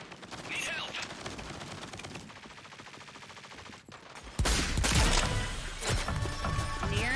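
Gunfire in Rogue Company, rapid bursts of shots that build to a dense, loud volley in the second half, with a voice talking over the shooting.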